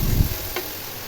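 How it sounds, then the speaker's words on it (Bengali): Fish fried with spices and cumin in a pan, giving a brief, steady sizzle with a faint clink of stirring. "এই তো মাছটা ভালো করে মশলা দিয়ে কষাইতেছিলাম, কষাই ভালো করে।"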